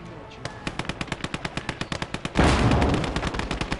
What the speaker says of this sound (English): as we start to move into a firefight again